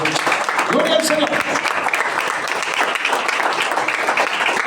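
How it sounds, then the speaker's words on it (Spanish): A church congregation applauds steadily and densely for several seconds, a brief voice rising over the clapping near the start. "Démosle un aplauso a la palabra de Dios."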